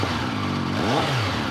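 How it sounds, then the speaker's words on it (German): A three-cylinder motorcycle engine runs steadily close by, then revs once with a quick rising and falling whine. "Das Ding hier, Dreizylinder, ein Sound wie aus den göttlichen Hallen des Motorradschmiedgottes."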